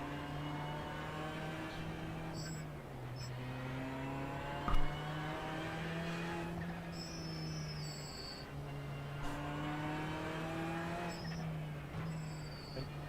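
Squeaky car brakes on a racing car in a sim racing endurance race at Road America give short high-pitched squeals over a steady, humming engine drone that rises and falls with gear changes.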